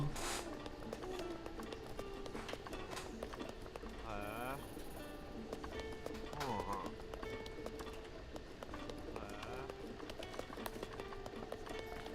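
Horse hooves clop rapidly and continuously in The Legend of Zelda: Breath of the Wild, an even galloping patter mixed with game sounds and occasional chirps, with a person talking over it.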